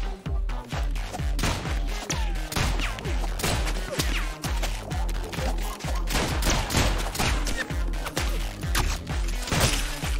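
Rapid gunfire in the 2D shooter game ROUNDS: dense, rhythmic volleys of punchy shots with thumping low impacts, firing almost without pause for several seconds.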